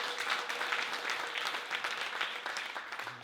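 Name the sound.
congregation clapping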